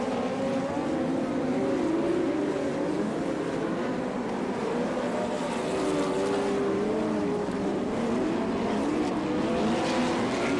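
USAC sprint cars roar around the Attica, Ohio dirt track on the final lap of the Buckeye Nationals. Engines drone loudly and continuously with a rising and falling pitch as the pack passes.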